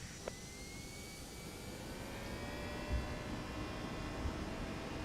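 Toliss A321neo jet engines spooling at takeoff in X-Plane 12, a steady broadband roar with rising whine tones, moderately loud and continuous with no talk.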